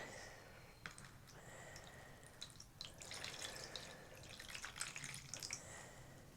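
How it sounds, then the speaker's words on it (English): Water trickles and drips into a tray for Japanese ink marbling, a quiet, intermittent pouring with small splashes close by. "I'm going to put some water in."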